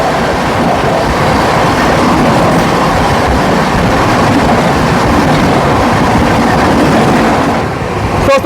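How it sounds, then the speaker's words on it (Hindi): An Indian passenger train crosses the Rajdhani Express on the adjacent track, a loud, steady rush of wheels and wind with clattering rail joints, easing slightly at the very end. "दोस्तों हमारी क्रॉसिंग होने जा रही है 12424 डब्ल्यू और राजधानी एक्सप्रेस के साथ"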